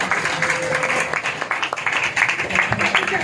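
A church congregation claps loudly during a service, a dense, uneven patter of many hands with sharper individual claps standing out, and some voices murmuring underneath.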